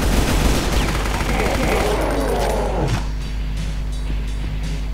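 Dense video-game gunfire from Brutal Doom, a rapid, continuous barrage loud through the first three seconds before tapering into quieter scattered shots, with a voice speaking over it.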